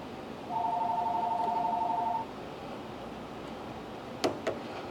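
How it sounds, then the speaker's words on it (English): A phone's incoming-call ring sounds in a machine shop where a slitting saw arbor is being repaired: a steady two-tone electronic trill held for under two seconds, fairly loud over faint room hum, followed later by a couple of short clicks. "I got a phone call here."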